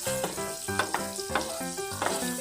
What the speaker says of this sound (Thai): ผัดไปเรื่อย ๆนะครับ